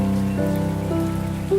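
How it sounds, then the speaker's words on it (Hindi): Heavy rain pours steadily in a cartoon jungle during a storm, a dense continuous wash of drops with tonal music or sustained effects layered over it, loud and close throughout with no talking. "बाहर बहुत तेज बारिश हो रही है"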